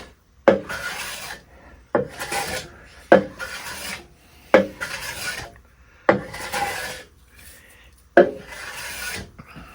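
A Bridge City low-angle hand plane smoothing the top of a wooden board, producing six rhythmic shaving strokes about every one and a half seconds, each opening with a sharp bite and then trailing off in a close, crisp rasp.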